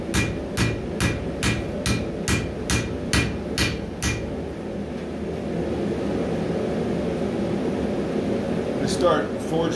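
A hammer strikes a steel Bowie knife blade during forging, about ten sharp, evenly spaced ringing blows in the first four seconds, followed by steady workshop hum and a faint scrape near the end.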